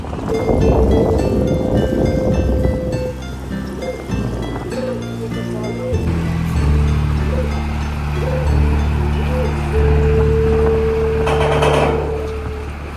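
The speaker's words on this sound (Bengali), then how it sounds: "নেক্সট বোটটা আসছে দেখতে পাচ্ছেন বোট চলে আসছে" A ferry pulls in at a river ghat in Kolkata on the Hooghly, its horn sounding in long sustained tones with a steady engine rumble and wind noise throughout, rising to a loud close blast near the end.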